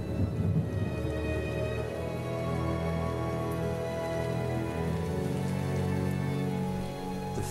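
Thunderstorm with steady rain pattering densely on surfaces, a low rumble of thunder rolling beneath it, with a musical score playing over the whole storm.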